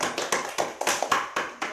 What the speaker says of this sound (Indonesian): tepuk tangan dong buat kelompok 1